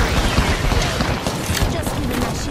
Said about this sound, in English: I'm spotted, taking fire.